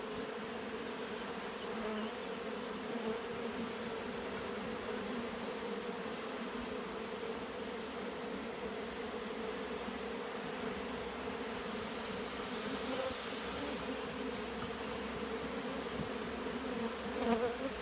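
Honey bees swarm around the nucleus hive colonies and give off a dense, steady buzzing that stays close and unbroken, with no voices heard.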